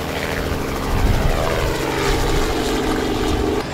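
A helicopter flies overhead above International Drive, a loud, steady rotor and engine drone that fills the whole clip with a slight swell partway through, with no voices.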